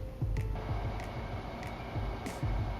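Large laboratory centrifuge for bigger tubes spinning, a continuous loud mechanical drone with rhythmic low thumps and brief bright clicks recurring about every half second, close by and without voices.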